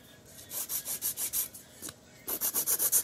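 Acrylic white-tip nails being ground and shaped with a nail file, heard as quick rhythmic rasping strokes close up, a burst of about six, a short pause, then another fast run.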